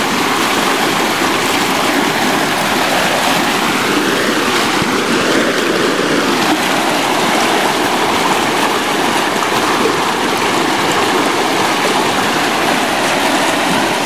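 Water rushes and burbles continuously in a steady, even wash, close and fairly loud, with no voices.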